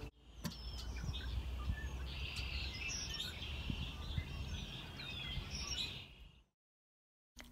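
Birds singing outdoors, faint scattered chirps and tweets over a steady insect-like hiss, distant and quiet, fading out to silence near the end.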